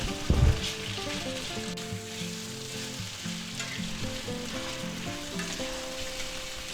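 Marinated pre-cooked beef is tipped into a hot stir-fry pan of spicy beef, broccoli and mushrooms with the burner off. A brief clatter as it lands, then a steady, loud sizzle and frying hiss, with no voices.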